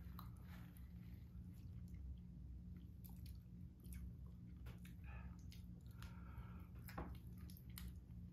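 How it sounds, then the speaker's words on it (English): Spicy toffee nuts being chewed close up, with wet squishy crunching and small bites repeating steadily for several seconds, no talking over it. "Now that I'm done chewing."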